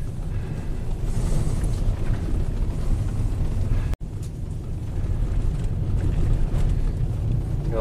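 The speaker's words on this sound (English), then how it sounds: "North wind going on." A north wind blows across a snowy driveway, a steady, loud, rushing roar that buffets continuously, with a brief dropout near the middle before resuming just as strongly.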